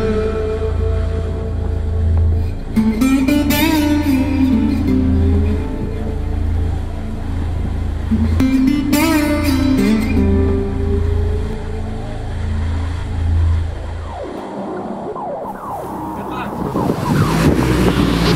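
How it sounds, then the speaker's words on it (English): An Audi R8 V10 engine on a race track, a loud sustained drone rising and falling through gears with wind rush, close and continuous, fading briefly near the end before surging again. "Listen to this engine."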